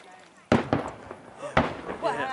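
New Year's Eve fireworks bang in a series of sharp, loud explosions at irregular intervals, fairly close, with crackling and people talking between the bursts.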